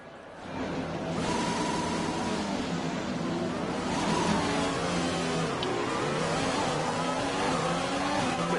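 A Formula 1 race car engine in F1 2020 revs steadily and loudly with rising and falling harmonic whine, close and continuous after a quick swell at the start, no talking over it.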